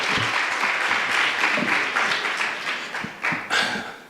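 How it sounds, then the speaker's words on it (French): An audience at a public law evening on intimate conviction claps for a magistrate from a court of appeal, a steady moderate round of applause with a few sharper claps near the end. "Merci d'applaudir."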